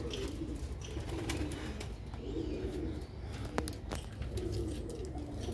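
Sialkoti pigeons, a breeder's pair kept for sale, coo in soft repeated low rolling phrases, fairly faint against a steady background hum, with a few thin chirps.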